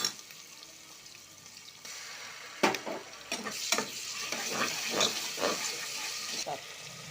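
Onions fry with salt and ginger garlic paste for goat head curry, a loud close sizzle rising as the spoon stirs, with rhythmic scraping strokes against the pan.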